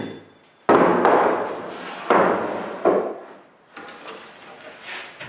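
A full sheet of plywood is set down onto a workbench with a few loud, broad thumps and scraping shuffles, followed by quieter handling knocks.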